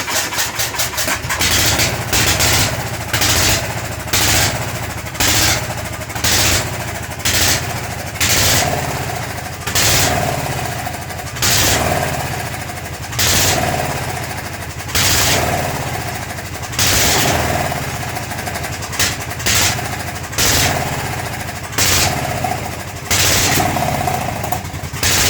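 A carburetted engine runs after carburetor work, its steady low drone punctuated by regular bursts of revving or popping throughout, recorded close with no talk.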